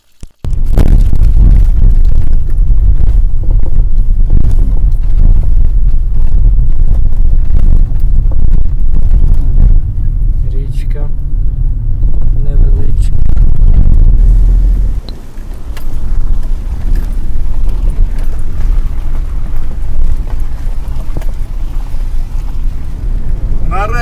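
A car drives along a mountain road in the Carpathians, a steady loud low engine and road rumble running throughout, with a brief dip midway before it continues.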